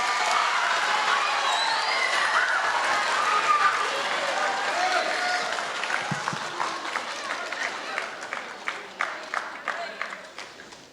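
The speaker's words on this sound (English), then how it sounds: "All right, give yourselves a round of applause." A school audience at Korah Collegiate in Algoma applauds after an Indigenous hoop dance performance; dense clapping fades into scattered claps, with some voices.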